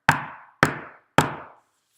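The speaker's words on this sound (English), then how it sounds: "He knocked on the door." Three sharp knocks on a wooden door, evenly spaced about half a second apart, each a crisp close thud with a short decay, with no talk.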